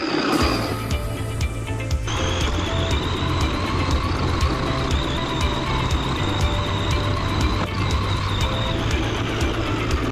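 A WLtoys 104009 monster-style RC car with upgraded metal parts runs off-road, its electric motor giving a loud, steady whine and its wheels churning rough ground, with a sharp pitch change near the start.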